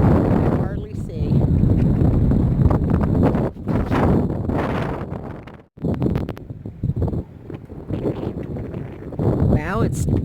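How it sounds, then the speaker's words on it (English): Strong gusty wind ahead of an approaching storm, with dust blowing, roars and buffets loudly against the microphone almost without pause. A brief lull comes partway through before the gusts surge back. "Well, it's really windy here."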